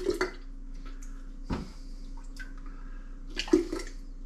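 Homemade tomato marinara sauce is ladled from a pot into bottles, with a few wet splashes and drips at irregular moments over a quiet low hum.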